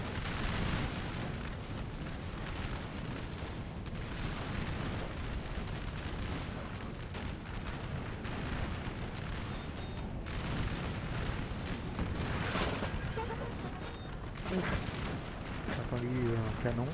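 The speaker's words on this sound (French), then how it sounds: "J'ai entendu un canon." Cannon and artillery fire in a Napoleon: Total War battle, with dull booms scattered through a dense, continuous rumble of battlefield noise. Voices are heard over it.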